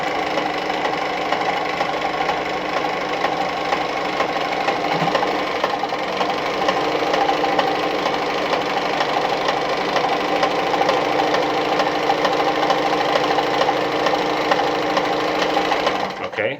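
An Adlerina 240A sewing machine stitches continuously, a steady close mechanical whirring with rapid rhythmic needle clatter that runs unbroken throughout.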